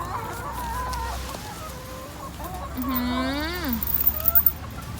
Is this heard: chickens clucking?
yes